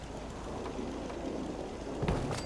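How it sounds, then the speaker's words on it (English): A radiation storm in Fallout 4 brings a steady wash of rain with a low thunder rumble swelling near the end. No voices are heard. "That's a rad storm."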